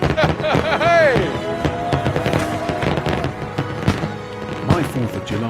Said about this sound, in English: My 4th of July draws to a close with a spectacular fireworks display.